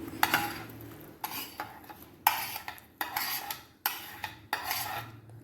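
Chopped onion goes into a pan while tomato bath cooks, with sharp scraping and clinking of a metal spoon against the pan in short repeated bursts, fairly close and with no voices.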